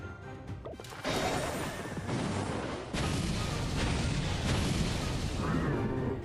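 Stone wall being smashed apart in the ClashQuest mobile game, in the Lava Golem stage of the magma bank: dense crashing, crumbling impacts in several loud bursts over a steady game soundtrack, with no talking.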